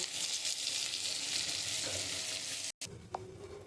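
Vegetable curry sizzling in ghee in a pan, a steady close hiss of frying with faint stirring, briefly cut off then resuming more quietly.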